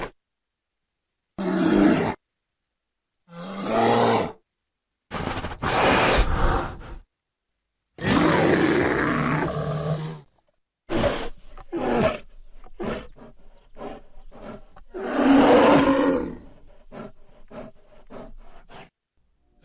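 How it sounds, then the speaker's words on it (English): Black bear from Washington State making a series of grunts and rough roaring growls, several separate bursts with pauses between, then quicker huffing grunts, fairly close with no talking. "those sounds were of a black bear, which is indigenous to the state of Washington"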